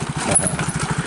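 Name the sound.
motorcycle approaching and stopping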